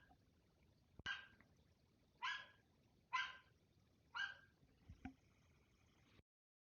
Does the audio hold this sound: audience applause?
no